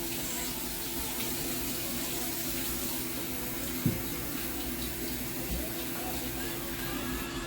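Food is rinsed under a running kitchen tap during meal prep, a steady, faint hiss of flowing water close by with a small knock partway through.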